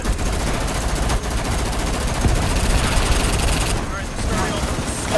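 An enemy gunner in a video game fires a machine gun in a continuous loud rattling burst that fills the whole stretch, with a player's voice talking over it.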